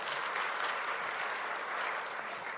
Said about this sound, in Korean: 잠깐 앞으로 나오셔서 인사하시면 박수로 또 우리 환영하겠습니다